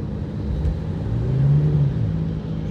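A 2000 Seat Leon with a 1.6 petrol engine drives along and accelerates, its engine rising in a smooth hum above a steady road rumble from inside the cabin, with no talking.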